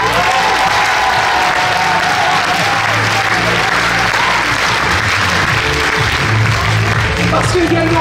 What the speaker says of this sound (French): Vous pouvez applaudir la personne qui est en charge de la mobilisation